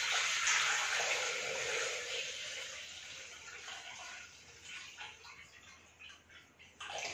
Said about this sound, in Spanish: Y ahora vamos a poner en el vaso el agua.